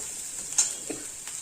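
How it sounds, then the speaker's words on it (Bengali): Potatoes stirred into spices frying in a pan, a bright close sizzle with a couple of quick scraping knocks from the stirring. "এরপর ওর মধ্যে আলু পড়বে।"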